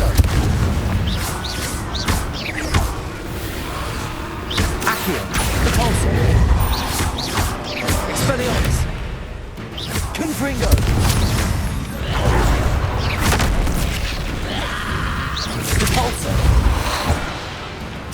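Repeated Confringo fire-spell explosions in the Hogwarts Legacy video game, booming blasts and crashes over a dense, continuous combat soundscape, loud throughout, with a voice speaking at times.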